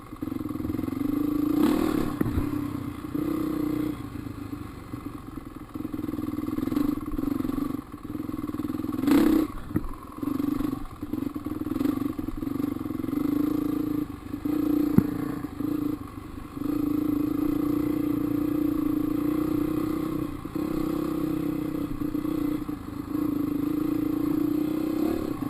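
Dirt bike riding at the Penrose Commons trails, the motorcycle engine droning steadily and close throughout, with surges of revving and occasional clatter and scraping as the bike moves over rough ground.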